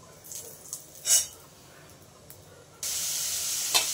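Radhuni seeds hit hot oil for a boal fish curry with a sudden loud, steady hiss and sizzle after a few soft clinks and a brief splash, close and continuous to the end.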